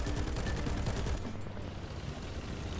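Cannon fire from an Italian low-tier premium tank in War Thunder, a heavy burst of rapid booming shots up front that gives way to engine rumble and battlefield noise, loud and close.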